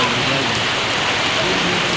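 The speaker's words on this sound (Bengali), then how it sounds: "চারিদিকে শুধু বৃষ্টি" Steady rain falls over a rural village, a dense, even hiss of drops on surfaces with no breaks, fairly loud and close throughout.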